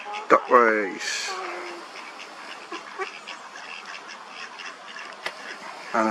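Ducks quack at a nature reserve in Peterborough, a few nasal calls up close near the start, then fainter calls mixed with outdoor ambience and scattered voices.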